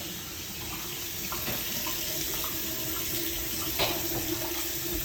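Hot water runs steadily from a tap in a house during a walk-through, a constant hiss of flowing water with faint knocks and clicks, no talking.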